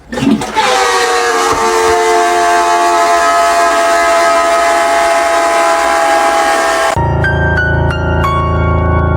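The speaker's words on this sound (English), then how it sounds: "Can somebody tell me why my toilet sounds like this?" A loud, sustained whining hum with a rushing roar, like a toilet filling with an odd droning tone, then abruptly shifting to a lower rumble with clicks.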